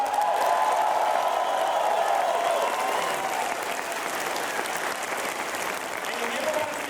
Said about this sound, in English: give a round of applause to your campus police here